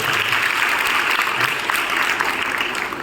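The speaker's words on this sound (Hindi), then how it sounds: "एक बार अपने विद्यालय के लिए तालियां जरूर दें" Loud, sustained applause from an audience at Arya Kanya Mahavidyalaya, a dense, even roar of many hands clapping together without a break.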